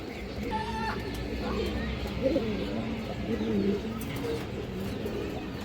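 Several Afsan Bagha and other fancy flying pigeons coo nearby in low, throaty, repeated calls, with faint background murmur and occasional soft chirps.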